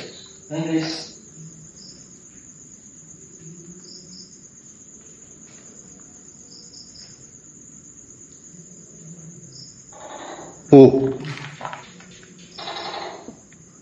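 A tokay gecko gives a few croaking calls, loudest near the end, over a steady high insect trill in a quiet night setting at a military base.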